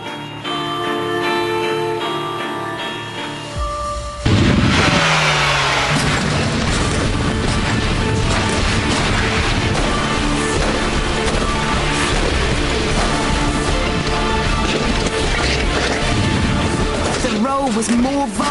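Car launched into a cannon roll stunt: an engine note gives way abruptly to a loud, violent, sustained din of crashing and tumbling that lasts for many seconds, with voices speaking over parts of it.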